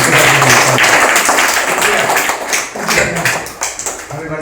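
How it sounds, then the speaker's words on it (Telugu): Children applauding to thank KCR at a notebook distribution held for KTR's birthday, a dense, loud, steady wash of clapping from a group, with some voices mixed in. "ఒకసారి చప్పట్లు కొట్టి కేసీఆర్ గారికి"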